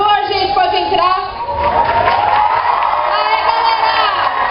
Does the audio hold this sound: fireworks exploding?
no